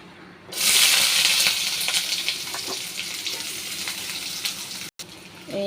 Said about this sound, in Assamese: মোৰ পিঁয়াজ ভাজা হ'লে, বেছি ৰঙা নকৰোঁ, জ্বলি যাব নহয়।